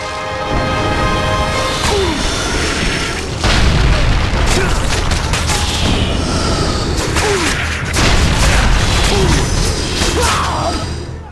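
Ballista shots and booming impacts against enemy ships in God of War: Chains of Olympus, heavy repeated blasts with mechanical clanks over a dense game soundscape.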